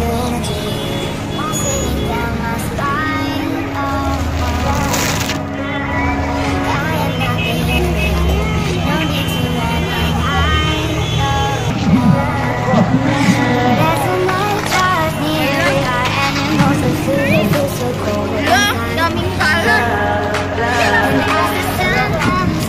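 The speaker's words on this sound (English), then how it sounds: "Sobrang traffic." Heavy road traffic in Jeddah, a steady wash of car and bus engines with a constant crowd babble, while people talk over it throughout.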